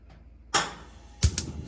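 A Whirlpool gas oven is switched on, giving a few sharp, close ticks from the igniter spaced apart over under two seconds against a quiet background.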